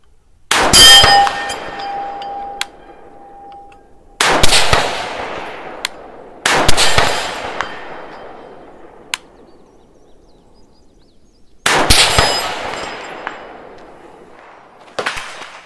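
Four rifle shots at an outdoor range, each a sharp loud crack followed by a ringing metallic clang from a distant steel target that decays over a couple of seconds, with quiet gaps between.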